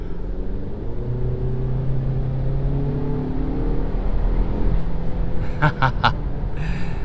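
A 2019 Audi Q3 with a 228-horsepower engine accelerates hard from inside the cabin, a steady engine rumble and whir building through the run, with a few sharp transient clicks near the end.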